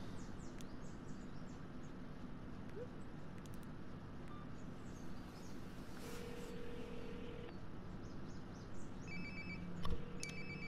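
A mobile phone rings nearby in Life Is Strange: Before the Storm, its faint, repeated electronic tones rising over a low ambient game hum in the second half.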